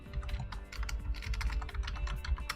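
Fingers tap steadily on a computer keyboard as a username is entered, the quick clicks of the keys blending into a continuous patter over a low hum.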